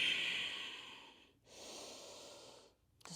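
Slow breathing during a yoga pose, a long airy inhale or exhale, a brief pause, then another soft breath, close and quiet with no talking.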